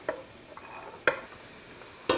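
Onions and garlic fry softly in a pan, a faint steady sizzle broken by three sharp scraping clinks as a spoon turns them.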